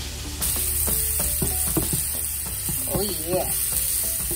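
Avocado and egg sizzle in hot oil with cracked black pepper, a steady close hiss of frying that runs throughout, with a brief spoken remark over it.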